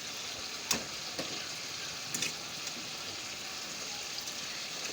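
Mutton sautéing in oil with fried onions, a soft continuous sizzle with a few light scraping stirs and clicks of a utensil against the pot.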